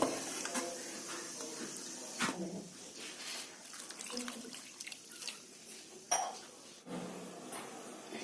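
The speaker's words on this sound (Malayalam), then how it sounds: "അപ്പൊ അത് നമ്മൾ ഒരു പാത്രത്തിലേക്ക് ഇട്ടിട്ട് അതിലേക്ക് കുറച്ച് വെള്ളവും മഞ്ഞൾപ്പൊടിയും ചേർത്തിട്ട് നമുക്കിത് വേവിച്ചെടുക്കാം" Mango pieces for a Kerala mampazha pulissery curry going into a pot with water and turmeric, with close clinks of metal vessels and spoons, splashing water and brief scraping, a voice faintly heard underneath.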